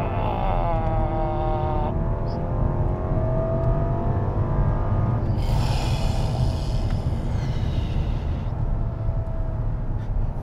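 A Rolls-Royce Ghost engine revs up through rising gear changes, the whine climbing in pitch as it accelerates hard, loud and close, with steady road noise underneath.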